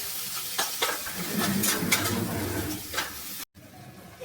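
Ginger and cumin paste stirred into tomatoes in a pan for vegetable khichuri, a close, soft sizzle with scraping spoon strokes, a brief cut near the end.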